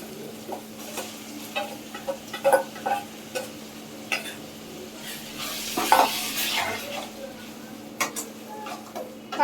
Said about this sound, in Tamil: பச்சை ஸ்மெல் போகிற வரைக்கும் நீங்கள் வந்து கொஞ்ச நேரம் அதை வதக்கி வைங்க.